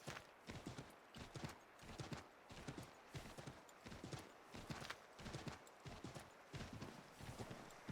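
Horse hooves clip-clop in a steady, quick rhythm of evenly repeating beats in Assassin's Creed 3, a brisk ride captured close and fairly quiet with no other sounds standing out.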